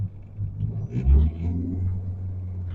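A car engine hums low and steady while driving, with a brief surge partway through and a voice speaking faintly over it.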